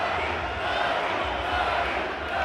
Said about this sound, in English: With the roar of the Long Beach crowd screaming his name